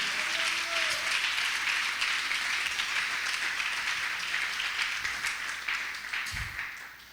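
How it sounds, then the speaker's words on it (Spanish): Church congregation applauding as an offering of praise, a steady dense wash of clapping that fills the whole stretch, loud and close, fading slightly at the end. "Le vamos a regalar una ofrenda de palmas al Dios de la gloria."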